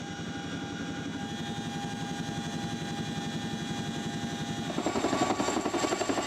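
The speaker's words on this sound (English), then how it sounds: "On board the homegrown Suryeon helicopter and the large transporting Chinook helicopter, Hyunbin looks down from the skies." A homegrown Surion or large Chinook transport helicopter in flight, its rotor thudding in a steady rapid pulse over a constant engine roar that swells a little louder toward the end, with no voices.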